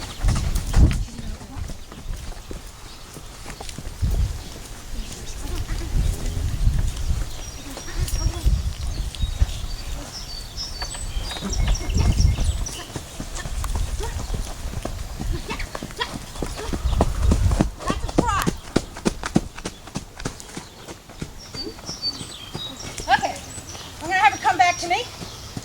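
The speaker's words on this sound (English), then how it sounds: "Run. Just run. That's called a canter." An Appaloosa mare canters on a working line, her rhythmic hoofbeats thudding in repeating pulses at moderate distance, with a person talking intermittently over the footfalls.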